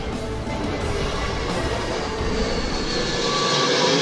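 The train of the world's fastest roller coaster rolls along its track with a continuous, loud rumbling roar that eases off slightly near the end, and no one speaks.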